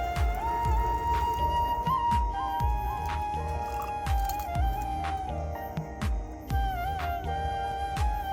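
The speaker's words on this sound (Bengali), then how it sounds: "চাউলটা ভালোভাবে ধুয়ে নেব, চাউল ডাল মিশিয়ে দিলাম" Rice and lentils are washed together by hand in water, giving repeated squishing and sloshing strokes up close under steady background music.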